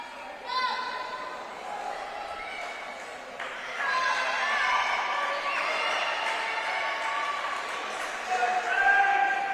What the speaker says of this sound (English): And everyone's cheering.